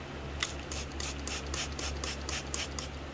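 A quiet series of short, sharp spray-bottle bursts misting moss on a ghost orchid, about a dozen in quick irregular succession, over a low steady hum.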